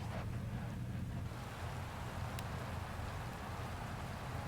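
Steady rain in Dirt Rally 2.0 drums on a rally car during a wet stage, a constant dense hiss over a low engine and road rumble, with no talk.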